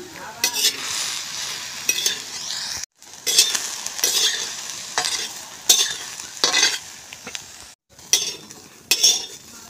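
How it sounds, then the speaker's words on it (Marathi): Pavta beans roast on a hot griddle over a stove, giving a dry sizzle with bursts of stirring and scraping that come in uneven waves and stop briefly twice, close up, with no voices. "तवा गरम झाल्यानंतर यामध्ये आपण पावटे असे गवळे भाजून घेणार आहे"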